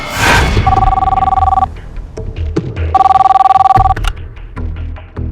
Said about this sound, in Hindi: अगले दिन 30 जुलाई को सुबह फ़ोन आया था।